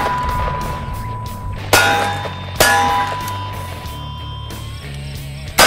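RUAG copper-matrix frangible .308 rounds are fired at a steel target from six inches away, producing three loud, sharp metallic clangs spaced irregularly, each ringing briefly before fading.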